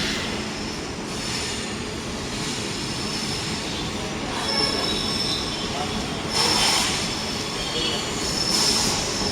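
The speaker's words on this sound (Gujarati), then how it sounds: "Freight train, ગુજ train." A freight goods train rolls past close by with a steady rumble of wagons and repeated high, ringing wheel squeals that rise and fade over the constant rail noise.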